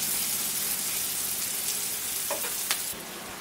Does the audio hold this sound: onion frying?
yes